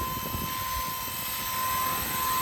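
A steady, high-pitched whine of a Blade 230s RC helicopter's motor and rotors in flight, constant and fairly close, with no talking.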